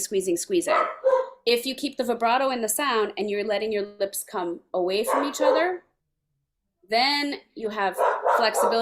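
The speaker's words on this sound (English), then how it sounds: "sorry about my dog" A dog barks and yips intermittently in the background of an indoor flute and piccolo masterclass, the barks mixed in under a person speaking about vibrato.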